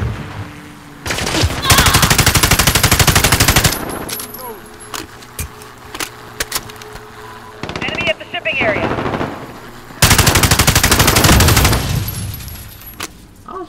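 A player fires a gun in Call of Duty Modern Warfare in two long loud automatic bursts separated by quieter game sounds, scattered single shots and clicks, with a voice talking faintly in the gap.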